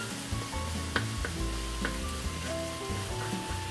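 Ground hamburger meat frying and sizzling in a pan, broken up with a spoon in scattered scrapes and taps over a steady close sizzle.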